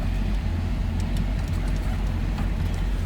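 A 1935 Ford Tudor four-passenger sedan engine runs close by, a continuous deep, even rumble with faint mechanical ticks above it and no voices.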